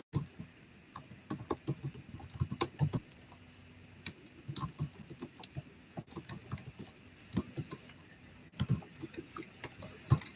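Close, irregular clacking of keys being typed on a computer keyboard, scattered taps and short flurries over a quiet background.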